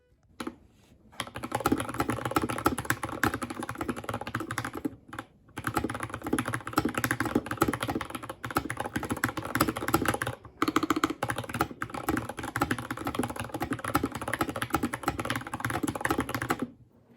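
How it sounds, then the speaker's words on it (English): Typing on a YUNZII KC68 keyboard fitted with factory pre-lubed Gateron Yellow linear switches: a fast, continuous patter of close keystrokes with only a few brief pauses, heard alone. "I usually save this section last, but let's do a quick type test."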